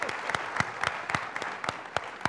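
Scattered applause from an audience at a congressional candidate forum in Duluth, a packed room of people clapping steadily and moderately loud for a couple of seconds.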